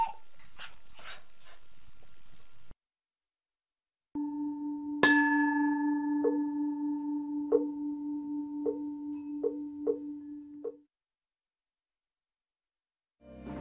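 A dog whimpers in a few short, high, whining bursts near the start, then goes quiet before a sequence of clear chiming tones rings out on its own.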